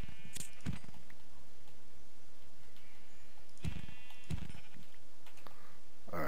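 Sheep bleat in the game Minecraft, several short synthetic bleats scattered across the stretch, a couple of them close together, with quiet gaps between them and no talk.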